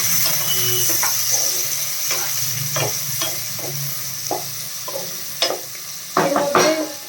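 Chopped onions fry with whole peppercorns in a pan for mutton curry, giving a loud continuous sizzle with intermittent spatula scrapes and clacks, busier near the end.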